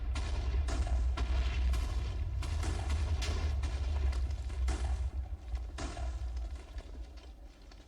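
A rapid series of deep booming TNT blasts in Minecraft, several in quick succession over a continuous low rumble, fairly loud with no talking.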